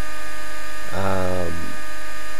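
Electric RC helicopter rotor and motor humming during flight, a brief whining tone that swells and then fades within about half a second over a steady background buzz.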